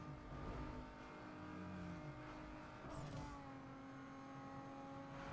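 A turbocharged car in a racing video game revs and shifts, its engine tone rising and falling with whining harmonics and a brief hiss, loud and continuous with no talking.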